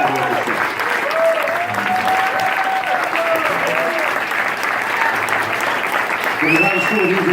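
An audience claps for the Afro-Cuban Jazz Orchestra at Dizzy's, a dense, steady round of applause lasting the whole stretch, with an announcer's voice speaking over it and a few whoops rising near the end.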